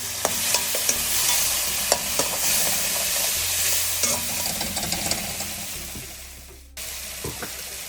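Loud, steady sizzling as water is added to a hot pan of curry-leaf kara kuzhambu with chilli powder, with scraping stir strokes and clinks throughout; the hiss drops out briefly near the end, then resumes.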